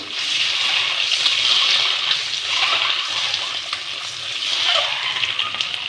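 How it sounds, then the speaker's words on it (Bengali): Double-yolk eggs from red hens fry in mustard oil seasoned with salt and turmeric, giving a loud, continuous close-up sizzle and hiss with no voices. "তেলের মধ্যে নুন হলুদ দিয়ে আমি ভেজে নেব।"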